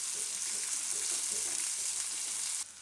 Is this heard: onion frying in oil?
yes